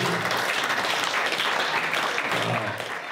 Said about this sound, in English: They applauded that